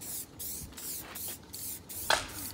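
Car bumpers are spray painted in short hissing bursts, several separate close sprays with brief pauses between them.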